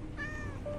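A cat meows once in the Minecraft video game, a short, clear mew with a rising-falling pitch, standing alone over a low steady background hum, followed by a faint high sustained tone.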